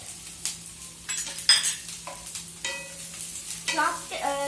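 Chinese noodles are stirred and tossed in a hot pan, with repeated scraping strokes and utensil clinks over a steady low sizzle of frying, close and moderately loud, no talk.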